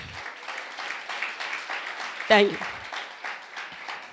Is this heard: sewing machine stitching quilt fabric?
no